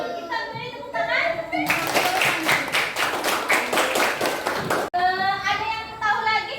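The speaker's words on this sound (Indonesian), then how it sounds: "Kita beri tepuk tangan." Schoolchildren in a classroom clap together in a quick, even burst of a dozen or so claps, with a voice heard before and after.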